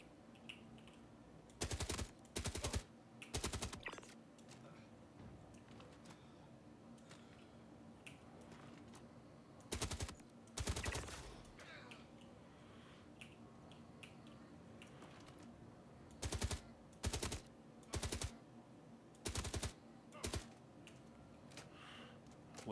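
Sharp, loud bursts of automatic gunfire from Star Citizen come in short clusters separated by quiet gaps, each volley a rapid string of close shots, with faint keyboard clicks between.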